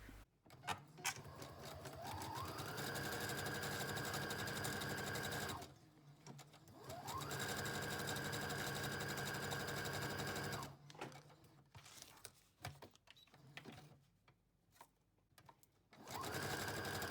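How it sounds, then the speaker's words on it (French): A sewing machine stitches fabric and a plastic pocket together for a junk journal, running in long steady whirring bursts that spin up and stop. Short stop-start runs and handling noises come near the end. "Et on va coudre le tout avec la machine à coudre."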